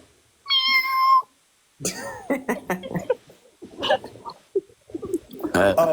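A human voice does a short, high-pitched cat-like meow imitation, followed after a pause by people talking and laughing.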